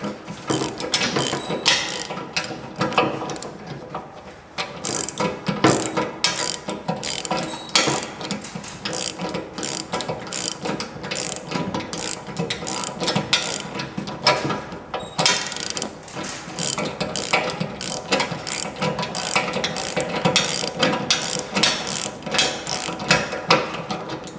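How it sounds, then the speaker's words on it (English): Ratcheting wrench loosening the bolts of a worn, overly loose trailer coupler during teardown, giving a dense run of rapid metallic clicks and ratchet pawl chatter, close and steady throughout with brief pauses. "So we're going to keep loosening to take this thing apart."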